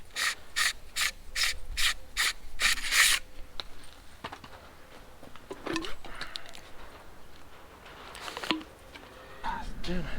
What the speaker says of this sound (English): Only thing which is annoying about these little grease guns is when the cartridges get stuck in there.